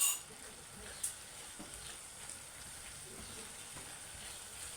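Garlic fries with green peppers in a pan, giving a soft, steady sizzle with faint crackles and a brief clink at the start and again near one second, quiet throughout.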